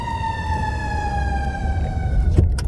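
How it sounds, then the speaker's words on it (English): An emergency vehicle siren wails loud and close with a steady, slightly falling tone, over low traffic rumble. "the sirens and everything."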